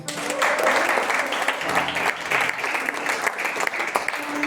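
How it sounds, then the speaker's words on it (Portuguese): A church congregation at a Sunday service in Pirapora, Minas Gerais, claps together in a brief, fairly full burst of applause that carries on steadily without a break. "Palmas para Jesus, igreja."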